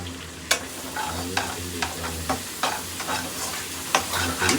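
Small shallots and curry leaves fry until brown in hot oil for a pressure-cooker biryani. A steady close sizzle runs throughout, punctuated by regular scraping strokes of a stirring spoon, with no talking.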